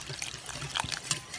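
Ice cold water poured into vegan egg powder for gluten free vegan chocolate donuts, a short close trickle and splash with a few brighter drips.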